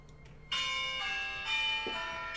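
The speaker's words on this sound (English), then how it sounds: "There's the opening bell." A stock market opening bell rings out with sustained metallic tones, struck a few times in quick succession, loud and clear over a quiet background.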